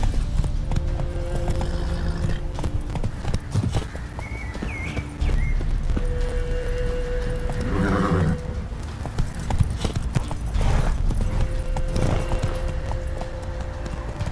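Hooves pound in rapid, rhythmic clip-clop as a horse gallops in the Witcher 3 game, with a whinny rising midway over a busy background of game sound.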